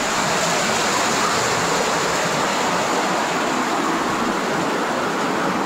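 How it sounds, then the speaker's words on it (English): Waterfall inside a flooded cave, a steady, loud, full rush of falling water that fills the space without letup, with no voices. "Waterfall."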